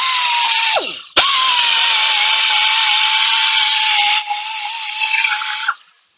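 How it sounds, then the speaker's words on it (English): Power grinder working the deepest dent spots on a car body in a body shop, a loud steady high-pitched whine with a brief break near the start, then running continuously before cutting off. "You gotta grind it up."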